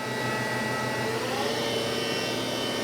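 Spindle of a 2015 Doosan Mynx 5400 vertical CNC machining center with a Cat 40 taper, running steadily at 2,500 RPM, giving a continuous close whine and hum with a broad airy hiss and no talk.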